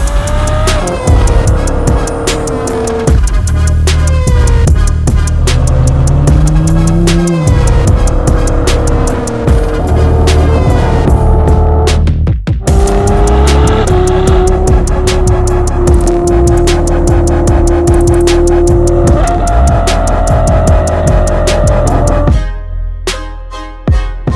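A Novitec Ferrari 812 N-Largo engine revs hard and roars through rising gears, pitch climbing and dropping with sharp shifts, loud and close throughout.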